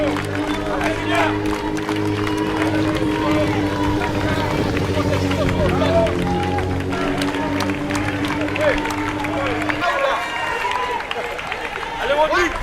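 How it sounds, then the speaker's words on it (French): Spectators at a 5 km race applaud and cheer as runners go by, with a steady crowd murmur, a sustained low drone and a shift to busier, noisier clapping near the end. "Ok, on les applaudit, mesdames et messieurs."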